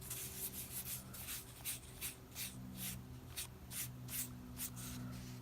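Soft pastel being rubbed into paper with a pad, a series of soft, rhythmic brushing strokes, close and quiet, each lasting a fraction of a second with short pauses between.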